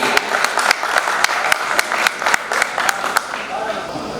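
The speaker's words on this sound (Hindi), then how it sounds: "जोरदार तालियों से स्वागत करें" Audience applause welcoming the poet Gajendra Priyanshu at a Hindi poetry gathering: a dense, steady wash of clapping with sharp individual claps standing out, sustained throughout and easing toward the end.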